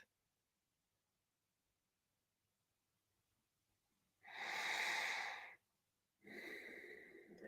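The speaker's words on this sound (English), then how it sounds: "Each new breath being slightly deeper than the previous one." Two deep, loud breaths during a breathwork exercise, a long airy one after a few seconds of near silence and a second following a short pause, each close and broadband.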